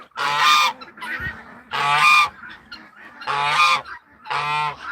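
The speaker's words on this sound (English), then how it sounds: "the other 21 guineas are in the chicken coop, making a terrible sound" Guinea fowl in a chicken coop give loud, harsh honking calls in four repeated bursts, each about half a second long, with quieter clucks and chatter between them, close and alone without speech.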